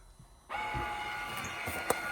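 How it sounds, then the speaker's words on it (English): The electronic suspension on a BMW F850 GSA motorcycle calibrates its rear shock, kicking in abruptly with a steady mechanical whine and hum that holds on, faint and close, with no talking. "You'll hear a noise, the ESA thing going off."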